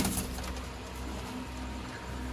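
Golden pigeons offered for sale in Sialkot coo faintly against a steady, noisy background hiss, and no voices are heard.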